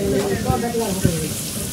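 Meat and fish cooking over a wood-fired stove: a close, steady sizzle and crackle of frying with a couple of louder pops, while people talk over it.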